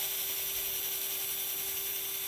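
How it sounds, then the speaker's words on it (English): A drill bores into a part of a Firebird-style model rocket kit, giving a steady, high-pitched whine with a constant tone that runs unbroken and close for the whole stretch, with no talking. "I'm just drilling straight in"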